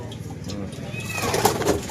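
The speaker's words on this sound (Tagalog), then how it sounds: "Bali, ayun siya, yung kalapating yun." A pigeon coos with soft, low repeated calls in a noisy outdoor setting, while people talk nearby and other birds chirp in the background.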